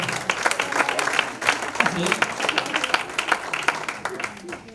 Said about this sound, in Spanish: Déjame un aplauso, Señor.